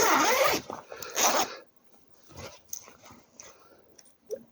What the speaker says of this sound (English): You can zip it up